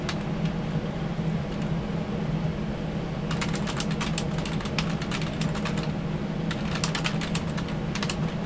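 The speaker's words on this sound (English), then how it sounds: "he's typing" Computer keyboard typing during a GTA 5 Online gaming session, quick clustered clicks in bursts over a steady low hum, fairly close and moderately loud, no talking.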